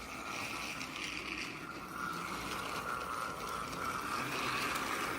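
A small motorized Thomas toy train engine running on tracks whirs and clicks steadily in a continuous rattling drone, close by, with no talking.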